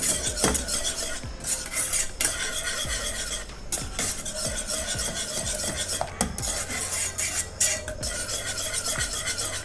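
Mushroom soup with soy sauce being stirred in a pot, a spoon scraping and clinking against the metal in a steady, continuous rhythm with small bubbling under it, close and fairly loud throughout.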